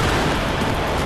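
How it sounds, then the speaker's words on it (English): A huge MythBusters blast fills the clip with a dense, roaring broadband rumble that stays loud and sustained throughout, with no talk over it. "Explosions."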